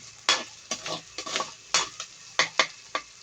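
Pork sisig with pepper is stirred in a sizzling pan, giving soft scraping strokes of a utensil at an irregular pace over a faint frying hiss, close and fairly quiet with no talk.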